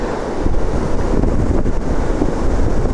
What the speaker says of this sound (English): There's some pretty big waves.